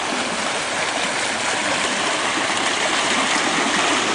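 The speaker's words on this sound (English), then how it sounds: "In the creek." Creek water rushing steadily past, a dense, continuous broadband babble that stays loud and close throughout, with no voices over it.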